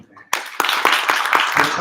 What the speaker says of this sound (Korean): 대체로 박수